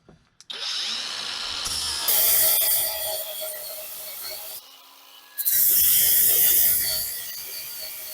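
A 4-1/2 inch AVHRIT 21V cordless brushless angle grinder grinding metal. Its loud, steady high whine rises in pitch, drops briefly, then surges back under heavier pressure before tapering off.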